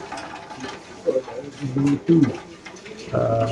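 Caged pigeons coo with soft low throaty calls at a pigeon market, several bursts close by, while someone talks over them.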